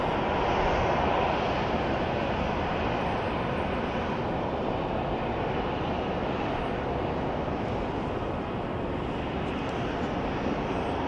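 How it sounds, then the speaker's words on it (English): Steady, loud jet aircraft roar at Dallas Love Field airport, a continuous broadband rumble holding constant for the whole span with no pauses, heard up close without any talk. "Beautiful aircraft right there."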